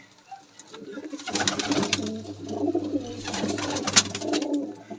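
Kept pigeons in a home loft of breeding pairs coo steadily and close by over a constant background rumble, with a few brief sharper sounds layered on top.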